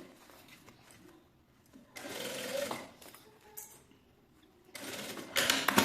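A sewing machine runs in bursts while stitching a handmade DIY suitcase, with a short run and two louder, longer runs separated by quieter handling noise, close and fairly loud.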